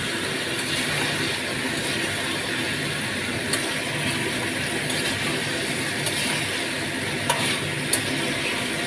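Soybean chunks and paneer sauté in a pan while turmeric water is sprinkled over them, making a continuous low hiss and sizzle with a few light scraping clicks from stirring.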